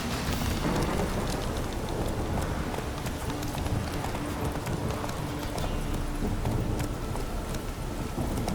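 Heavy rain pours down in The Witcher 3 while Roach the horse keeps trotting, a dense steady hiss of rain on the ground blended with continuous close hoofbeats and a low rumble throughout.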